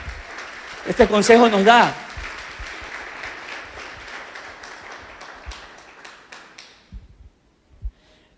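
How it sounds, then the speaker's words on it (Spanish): A church congregation applauds during a Spanish-language Easter resurrection sermon, with steady clapping lasting several seconds and gradually fading, while a voice speaks briefly over it near the start. "¿Cuántos pueden aplaudir al Señor?"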